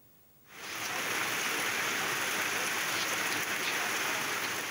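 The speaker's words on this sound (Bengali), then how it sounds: "থেমে থেমে মুষলধারে বৃষ্টি" Heavy monsoon rain in Chapainawabganj near the flooded Padma riverbank begins abruptly after a quiet moment, then pours as a dense, even, hissing roar that holds steady to the end.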